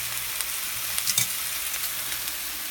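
Food searing in a hot pan, a steady close crackling sizzle with a few louder pops and spatters in the middle, no talking.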